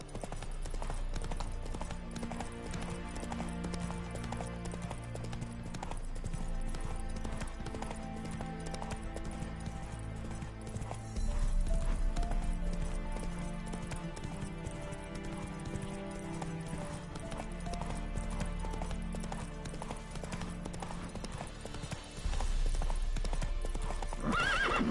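Roach, Geralt's horse in The Witcher 3, gallops with steady rapid hoofbeats and occasional whinnies over a continuous bed of game music, loud and sustained throughout.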